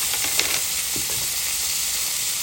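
Butter hits a hot pan beside a filet mignon steak and sizzles loudly and continuously up close, a dense steady hiss with a few sharper spits near the start.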